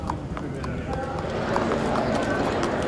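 Racehorses walk from the stables through soundproof tunnels beneath the grandstand at Meydan racecourse in Dubai, with steady hoof clip-clops over a broad rumbling background.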